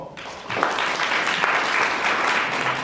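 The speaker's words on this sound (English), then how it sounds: "You need to give yourself a round of applause." Audience applause at a student symposium, a dense, steady clapping from a full room that swells in after a brief quiet start and holds loud to the end.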